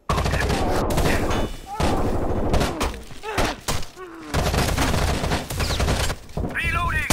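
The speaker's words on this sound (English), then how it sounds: "Taking fire!" Heavy, continuous gunfire in Rainbow Six Siege rattles in loud, overlapping bursts with intermittent thuds and breaking sounds, while voices call out between the volleys.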